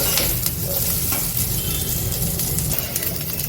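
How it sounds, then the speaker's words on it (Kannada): Onion and chilli tempering fry in hot oil for a curd sambar, producing a loud, continuous, dense sizzle that fills the whole moment with no voices. "ನೋಡಿ ಈ ಥರ ಇವಾಗ ಒಗ್ಗರಣೆಯನ್ನು ಮಾಡ್ಕೊತಾ ಇದ್ದೀನಿ"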